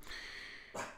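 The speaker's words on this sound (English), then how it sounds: "sorry about that noise there. Dog's playing around." A dog playing nearby makes a short burst of noise, a brief whine-like yelp and shuffle lasting about a second, fairly close and moderately loud.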